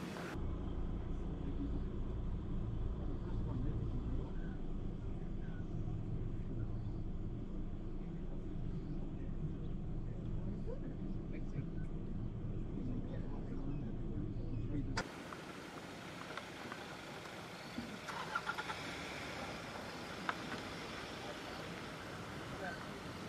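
Safari vehicles idling near lions at a kill, a steady low engine rumble throughout, close and continuous, with a shift in the background noise partway through.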